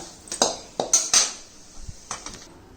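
A peanut and chayote stir-fry is spooned from a pan into a bowl, giving a few scattered scrapes and light metallic clinks of a spoon against cookware, close and fairly quiet.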